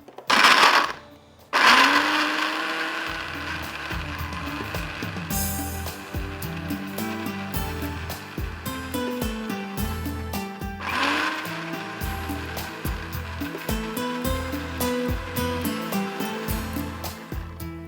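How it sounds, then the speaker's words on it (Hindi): An electric grinder blending onion with a little water, a loud whirring motor that starts, pauses briefly, then runs steadily with pitch shifting in pulses, close and continuous. "इसको मैं यहाँ पर पीस लेती हूँ"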